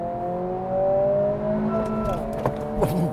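2023 Acura Integra or Honda Civic Si accelerating in second gear, a close engine whine with rising revs, a quick shift and a faint voice near the end.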